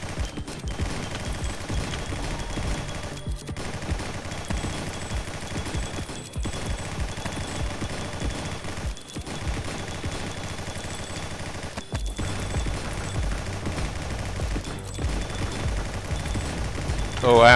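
A shotgun fires repeatedly in the video game Nimrods, with booming reports at a steady rhythm of a few seconds each and a continuous wash of game noise between shots.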